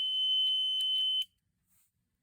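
An SDC Exit Check 101DE door exit alarm blares a loud, piercing, steady electronic tone for about a second, pulsing slightly, then cuts off abruptly and leaves near silence.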